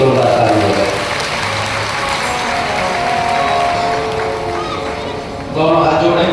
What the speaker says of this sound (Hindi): अपने लिए जोरदार ताली हो गए